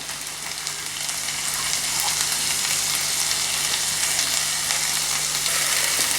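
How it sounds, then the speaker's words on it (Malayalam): Crushed ginger, green chili and garlic fry hard in hot oil for a mushroom kadai, giving a loud, continuous hissing sizzle that builds slightly and holds steady with no speech. "ഇനി നമുക്ക് ഇതിലേക്ക് ഇഞ്ചി, പച്ചമുളക്, വെളുത്തുള്ളി ഒക്കെ കൂടെ ചതച്ചത് ചേർത്ത് കൊടുക്കാം"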